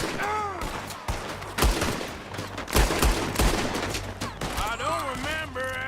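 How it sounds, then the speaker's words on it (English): Gunshots in a Red Dead Redemption 2 shootout, several sharp loud cracks spread irregularly across the scene, mixed with voices and whistling effects. "Told you I could shoot a gun, didn't I?"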